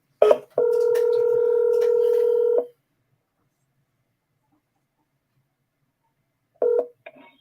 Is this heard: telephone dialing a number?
yes